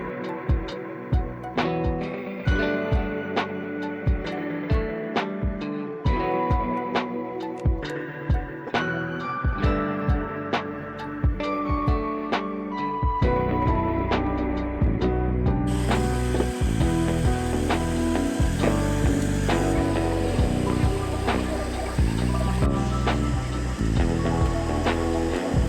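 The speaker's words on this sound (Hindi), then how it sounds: "टेम्परेचर राइज होने के साथ ही यहाँ पे हमारे प्रिंटर ने प्रिंटिंग स्टार्ट कर दी है।" A 3D printer printing a lithophane whirs and ticks continuously, its stepper motors giving rapid, irregular clicks and shifting tonal hums that grow denser partway through, close up with no talking.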